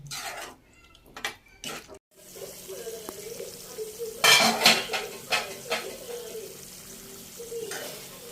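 Cut mushrooms being stirred into a masala in a pan, with a spoon clattering and scraping against the metal in uneven bursts, close up, over a soft cooking hiss.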